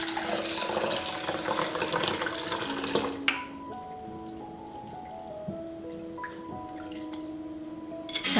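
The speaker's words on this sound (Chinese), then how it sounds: "加水清洗" Peeled mung beans washed in water: steady splashing and pouring at first, then softer drips and trickles in a basin or bowl, close by, with a louder splash at the end.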